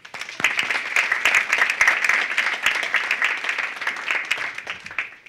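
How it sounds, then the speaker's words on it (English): A university research-day audience gives sustained applause for the provost, dense clapping from many hands filling the room at a steady, moderately loud level. "a warm round of applause for our Provost, Ivala Griffith"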